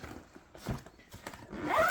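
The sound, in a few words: zipper on Kenozen Arctos 45L backpack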